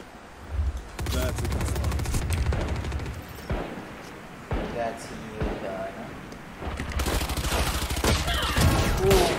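Vandal rifle fire in Valorant during an esports match, with sustained bursts of rapid automatic shots, a pause with scattered single cracks, then another heavy burst, loud and close.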